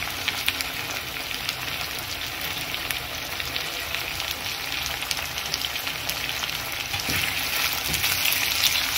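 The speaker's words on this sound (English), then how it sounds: "I'm going to add in my tomatoes, give them a stir, and I will wait until the tomatoes are fully cooked" Tomatoes frying for a simple matumbo dish, with a steady, fairly loud sizzle and crackle and occasional stirring scrapes in the pan, no talking, running continuously throughout.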